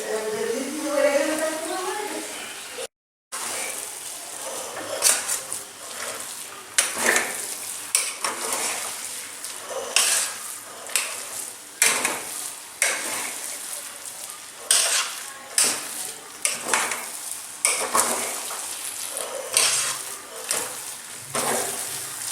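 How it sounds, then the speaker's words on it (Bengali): A spoon stirs fruit pulao rice with mixed fruits and paneer in a pot, making soft repeated scraping and clinking strokes at close range under a faint sizzle. Someone talks over parts of it. "এবার আমি সমস্ত ফলগুলো পনির সহ দিয়ে দিলাম এবং ভালো করে মিশিয়ে নেব"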